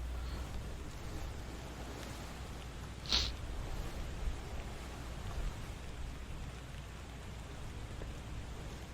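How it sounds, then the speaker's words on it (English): Steady soft wash of sloshing water and rain-like patter in the video game Return of the Obra Dinn, with a single brief bright drip or splash near the start; calm, continuous, no voices. "Be soothed by the sound of the sloshing water"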